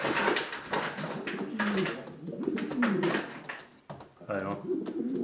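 Syrian red and white pigeons coo in soft, rounded low calls that repeat close by, with people talking over them for most of the stretch.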